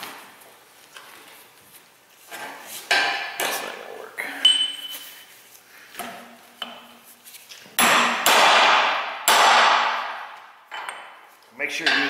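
Big hammer beating on U-joint caps during a U-joint replacement, a series of sharp metallic clanks and rings at uneven intervals, several loud blows near the end with lighter taps earlier and faint speech between strikes.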